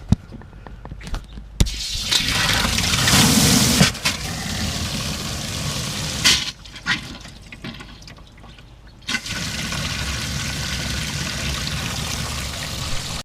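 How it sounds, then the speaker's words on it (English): A water hose fills a boat livewell, giving a loud rushing, splashing stream that starts, stops and surges in several bursts, with clunks and handling noises between pours and a steady flow at the end. "So let's go ahead and put some water in there."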